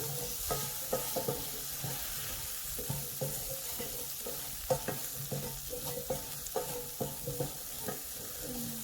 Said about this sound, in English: I'm going to add the broccoli in there. Just mix everything.